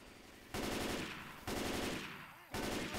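Rapid automatic gunfire in the Left 4 Dead 2 zombie shooter comes as three loud sustained bursts, each starting sharply and slowly tapering. The bursts are separated by brief lulls, with no talk.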